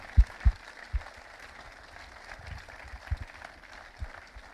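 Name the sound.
audience applause at a film festival opening ceremony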